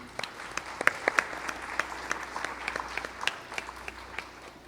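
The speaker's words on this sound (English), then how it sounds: "Let's give him a round of applause." Audience applause at a Carnatic music arangetram dance recital, a steady patter of many hands clapping with sharper individual claps standing out, sustained throughout at moderate room volume.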